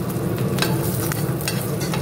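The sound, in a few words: cumin and dried chilli frying in hot oil, stirred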